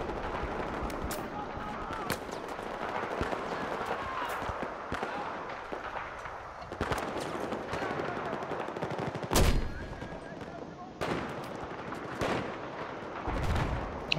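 Mortar and gunfire in Battlefield 4 on the Operation Metro map in conquest mode: a dense, continuous battle din with several sharp, loud blasts standing out, including a strong hit near the middle, with someone talking over the action.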